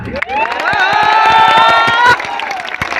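A crowd at a Karma festival gathering in Jharkhand bursts into loud clapping and cheering, with a long sustained shout or whoop ringing over the applause before it thins out.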